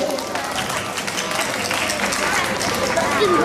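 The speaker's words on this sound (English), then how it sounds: "Another big round of applause for him" Audience applause at a science centre for a volunteer who survived a high-voltage electricity demonstration, continuous clapping with crowd noise and scattered voices, fairly loud throughout.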